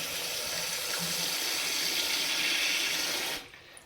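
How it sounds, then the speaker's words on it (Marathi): Water runs steadily from a tap into a sink over okra being washed, a continuous rushing splash that stops abruptly near the end. "तर आता ही थोडा वेळ मी एकदा धुवून थोडा वेळ पाण्यात ठेवते"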